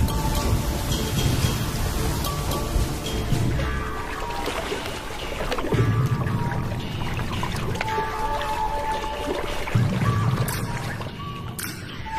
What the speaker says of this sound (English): The first real rains for a year.